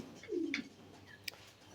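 One pigeon gives a single soft, low coo early on against a quiet farm background, followed by a faint brief chirp and a small tap.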